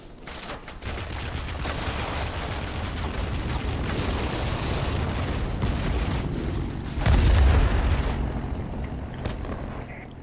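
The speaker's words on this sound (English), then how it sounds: "A rocket has reached the target." Rocket strike on a target during aerial combat in the game World of Warplanes, a dense roar of aircraft engine and rumbling booms with a heavier low thud near the end, loud and continuous.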